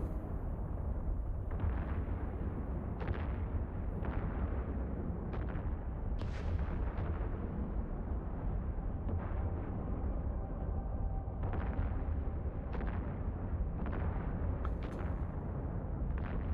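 Spaceship weapons firing in the space game EVE Online, rockets launching in a dense battle: repeated booming bursts every second or two over a constant heavy rumble, loud and close, with no talk.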